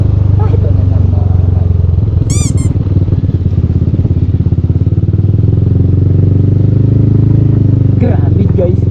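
Motorcycle engine running steadily on a long ride along provincial roads in Quezon Province, a continuous loud drone throughout, with a brief high squeak partway through and a voice speaking over the engine.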